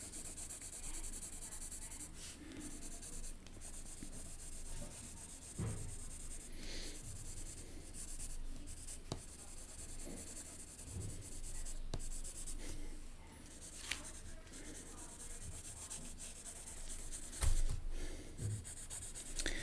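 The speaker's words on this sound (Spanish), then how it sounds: "voy a aprovechar las distintas tonalidades del lápiz para estudiarlas también para un poco para controlar mejor el lápiz" Pencil drawing on paper, a continuous close scratching and rubbing of graphite strokes with varying pressure, interrupted by occasional soft taps and pauses.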